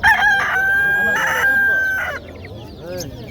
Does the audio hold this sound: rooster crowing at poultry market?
yes